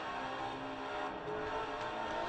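Cars in the racing game Forza Horizon 4 drift and accelerate, giving a steady, dense engine drone with a slightly shifting pitch and no voices over it.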